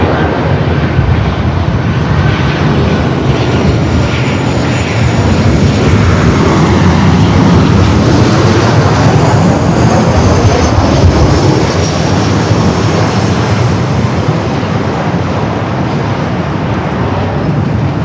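A loud, continuous roar of jet airliner engines at LAX airport, a broadband rushing drone that holds steady throughout with slight swells as the aircraft passes near.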